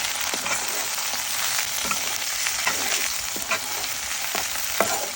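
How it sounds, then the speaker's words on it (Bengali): Coriander leaves fry together with other ingredients in a pan, a continuous close hiss of sizzling oil with faint periodic ticks of stirring. "শেষে কিছুটা ধনেপাতা দিয়ে দিব, দিয়ে একসঙ্গে ভেজে নিব"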